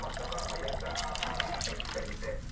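Water streams from a water dispenser into a container, a steady splashing gurgle that holds at one level for a couple of seconds, close by.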